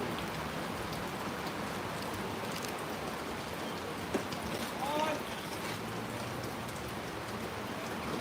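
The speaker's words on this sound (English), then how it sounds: "So it's raining." Steady rain patters down at an outdoor softball game in Pohnpei, a continuous hiss with faint voices and a brief knock partway through.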